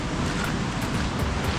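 Strong waves on a river in Palawan make a steady, loud broadband rush of churning water, close and constant with no talk.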